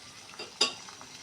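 Pieces of mutton liver (kaleji) are added to golden onions frying in a pan, with a soft sizzle, a couple of stirring scrapes and one sharp utensil clack near the middle.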